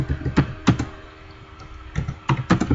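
Someone types a password on a computer keyboard, with bursts of clicky keystrokes up close, separated by short pauses.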